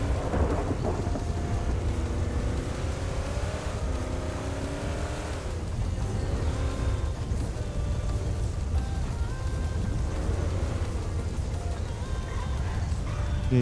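A heavy thunderstorm sounds nearby: steady loud rain and low rumbling thunder that rolls on and on without a break.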